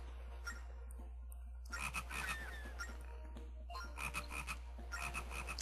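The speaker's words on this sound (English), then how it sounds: "I finally hit the damn frog." Frog croaking in the video game The Legend of Zelda Phantom Hourglass, repeated bursts of croaks in clusters over a low hum, fairly faint and without talk.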